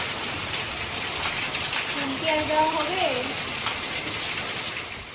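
Steady rain pours down as a dense, even hiss throughout, with a person speaking briefly over it partway through.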